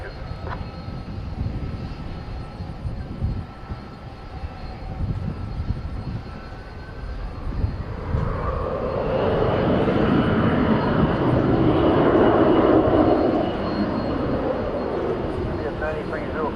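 Airplane taking off at night at DFW Airport, a broad engine roar that swells from about eight seconds and holds loud before easing slightly, with radio chatter and talk heard earlier.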